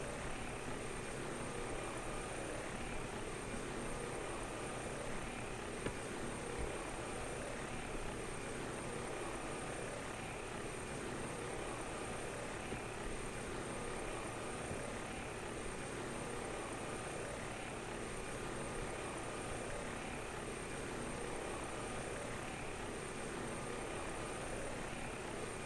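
A helicopter in a flight simulator drones steadily throughout, a continuous broadband engine and rotor roar that sits at a low, even level with no talking.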